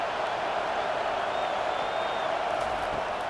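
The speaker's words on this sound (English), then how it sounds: "Decibels rising as the crowd gets behind this defense on third down." Stadium crowd in the College Football 25 video game, Tennessee Volunteers vs. Alabama Crimson Tide, roaring steadily behind the defense on third down, a loud, continuous wash of cheering with no break.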